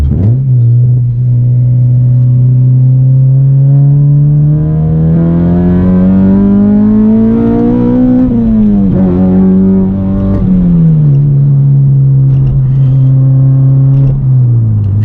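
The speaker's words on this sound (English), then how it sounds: "Let's hit some VTEC here, shall we?" A Honda engine is revved hard into VTEC: a loud, close drone climbs steadily in pitch for several seconds, then drops back and settles into a sustained roar, with no voices.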